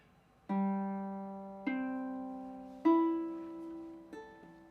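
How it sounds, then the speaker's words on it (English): A ukulele strummed four times, each strum ringing clearly and slowly decaying. The strums come at an unhurried, even pace in a quiet room. "And here comes the second uke we did."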